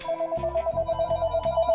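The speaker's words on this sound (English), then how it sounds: "And the phone rings!" Telephone ringing, a steady electronic trill with a fast pulsing rhythm, loud and close, heard alone without talk.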